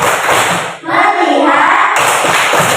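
Children clap a quick rhythmic classroom focus chant (tepuk fokus) during an elementary school lesson, sharp hand claps in a patterned beat with young voices chanting along, fairly close and loud.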